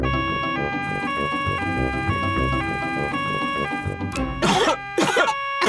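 A bright, tinkly music tune plays in a Peppa Pig cartoon, then stops, followed by several harsh coughs in quick succession.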